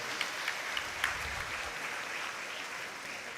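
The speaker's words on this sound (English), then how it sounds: "Can we have a big round of applause for sir?" Audience applause at a legal awareness seminar in Asansol, a steady wash of clapping held at moderate level for a few seconds with a few sharper claps standing out early on.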